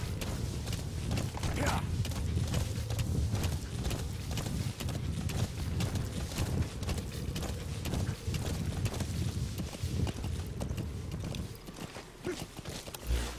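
Hooves clip-clop in a fast steady rhythm as a horse gallops in Metal Gear Solid V: The Phantom Pain, faint and continuous beneath ambient game sound, with someone talking over it.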